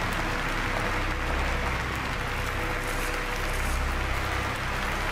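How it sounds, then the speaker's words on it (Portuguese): Crowd applause in a video game, a steady dense clatter of clapping held at even loudness throughout, with no voices over it. "A galera tá aplaudindo"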